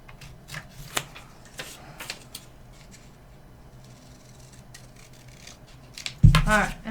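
Scissors snipping paper for an origami butterfly craft, a series of short close crisp cuts with paper rustling and a louder handling noise at the end, while someone talks.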